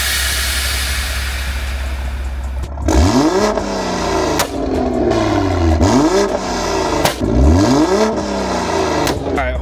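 Loud revving from a BMW M340i with a custom tune and a loud exhaust: a sharp rise to full throttle, then repeated rev sweeps that climb and drop, with crackling pops on the overrun.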